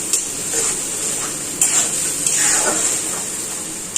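Spice paste with onion frying in a pan while being stirred, a steady bright sizzle with occasional scrapes of a spoon against the pan, close and without talk.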